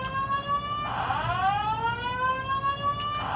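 A building fire alarm blares continuously with a steady, piercing multi-tone wail that sweeps down and back up midway, loud and sustained throughout with no talking over it.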